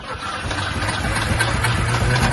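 A Chevrolet Chevette engine with a carburetor, running on alcohol, idles with a loud, steady, rough mechanical hum and slight wavering, close and continuous.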